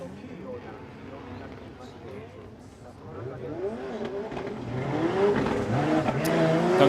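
A Ford drift car in Formula Drift Japan qualifying at Ebisu Circuit West Course, Fukushima, its engine revving and building in loudness as it pulls away, with a commentator talking over it throughout.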